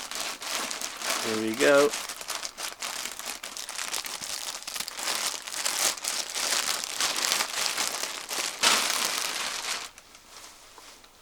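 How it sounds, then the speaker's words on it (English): Plastic crinkles and rustles loudly as a taped plastic parcel is cut open aboard a narrowboat in a marina, with a person speaking briefly over the steady crackling handling noise. "Probably easier to cut it than to try and tear off the tape."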